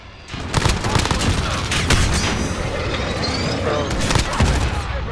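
Video game shootout with a sustained barrage of gunfire, dense overlapping shots and bursts booming close and loud for the whole stretch after a brief quiet start.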